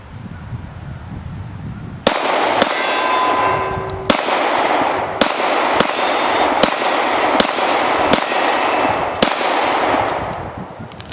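A Springfield XDS 9mm pistol fires about ten loud, sharp shots at an uneven but steady pace, each crack ringing out in a reverberant space.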